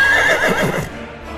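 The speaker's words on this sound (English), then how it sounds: "It's Albert and his wonderful horse, Jeff." A horse whinnies loudly, a high wavering neigh lasting about a second before trailing off into background noise.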